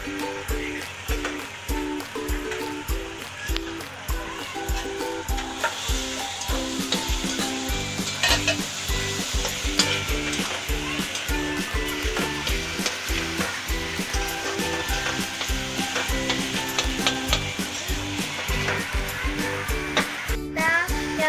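Chopped tomatoes sizzle and fry in a hot pan for Marathi-style pav bhaji, with steady bubbling crackle and repeated scraping, clattering stirs of a spatula throughout, close and continuous with no talking.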